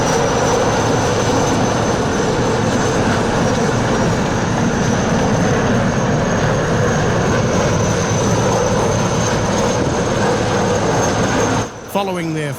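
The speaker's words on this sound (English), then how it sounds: "this group of IAR-330 helicopters, which we'll see in action throughout the day" A loud, steady drone with a high whine from a formation of IAR-330 helicopters passing overhead at an airshow, close and unbroken.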